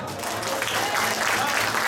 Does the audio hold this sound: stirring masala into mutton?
no